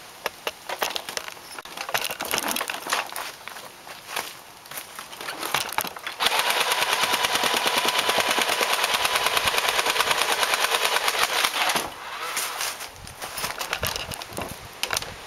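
A modified Nerf Vulcan EBF-25 blaster test firing, a rapid motorised clatter of darts in bursts, with one long sustained volley in the middle, loud and close with no talking.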